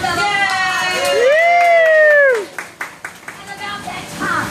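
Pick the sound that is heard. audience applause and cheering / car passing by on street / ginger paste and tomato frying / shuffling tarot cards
audience applause and cheering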